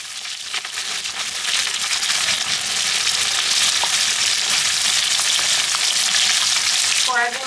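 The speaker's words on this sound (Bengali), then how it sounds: "কড়াইতে মাছ ভাজা বসিয়ে দিয়েছি" Fish fries in a wok of hot oil with a dense, continuous, crackling sizzle that stays loud and close, with no voices over it.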